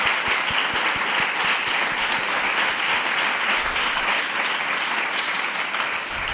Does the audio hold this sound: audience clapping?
yes